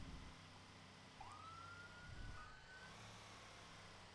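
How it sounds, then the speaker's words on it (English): Police car siren in a driving video game: a single rising wail sweeps up and holds steady for about two seconds over a constant engine drone, moderately loud and mid-distance, with no talking. "I heard a siren, but I don't see a police car."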